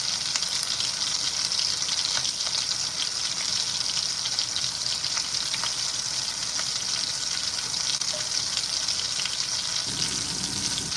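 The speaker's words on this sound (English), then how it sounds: "We're about to add some garlic, y'all." Garlic fries in a hot pan with a loud, steady sizzle and crackle that holds evenly throughout, close up, with no talking.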